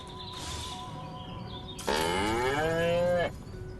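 A cow moos in the video game Destroy All Humans, one drawn-out, loud bovine call of about a second and a half standing alone over a faint steady game background hum.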